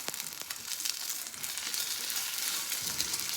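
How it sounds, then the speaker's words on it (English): An egg frying in a pan gives a steady close sizzle and crackle, faint and continuous, with a few small scraping ticks and no talking. "when you see the egg starting to get white around the edges"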